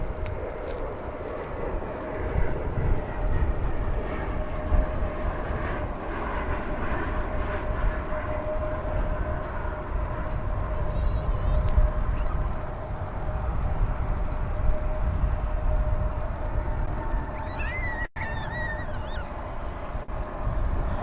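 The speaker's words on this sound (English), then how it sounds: "We have an Embraer 175 coming in from Querétaro," An Embraer 175 airliner arriving at DFW Airport, a steady distant jet roar lasting throughout, with faint honking calls near the end.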